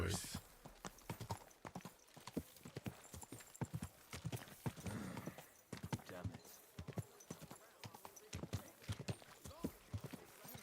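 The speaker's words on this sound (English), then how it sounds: "Easy. Easy. Good horse." Horse hooves clip-clop steadily in Kingdom Come: Deliverance 2, a dense run of close, crisp hoofbeats on hard ground with someone talking softly over them.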